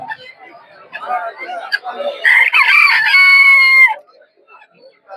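Chickens cluck and chatter close by amid indistinct voices at a rural poultry market, then a rooster crows loudly in one long call before the noise drops away.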